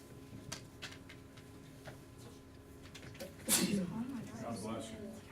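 A single sharp sneeze bursts out partway through a classroom algebra lesson, loud and sudden against a quiet room with faint background murmur, followed by brief talk.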